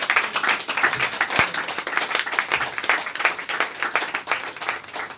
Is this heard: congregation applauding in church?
yes